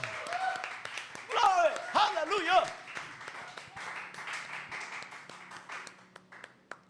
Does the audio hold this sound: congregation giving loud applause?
yes